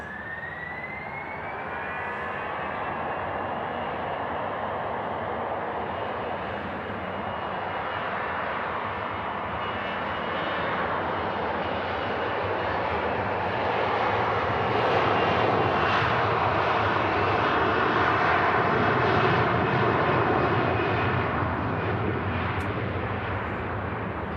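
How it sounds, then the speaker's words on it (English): Airliner jet engines spool up at Manchester Airport on a frosty day as the takeoff roll begins, a loud continuous roar with rising whine that swells steadily and stays strong throughout, with no talk. "And then here begins the takeoff roll."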